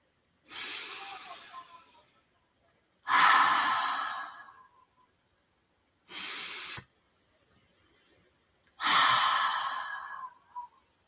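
Four deep, slow breaths taken during a guided breathwork exercise, each a long airy inhale or sighing exhale lasting about a second, separated by clear silent pauses, close and fairly loud, with no talk.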